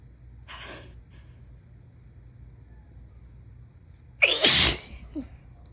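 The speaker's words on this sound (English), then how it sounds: "I do know that I am gonna fucking sneeze again." A single forceful sneeze from someone with a cold, close and loud near the end, preceded by a fainter breathy burst and quiet room tone.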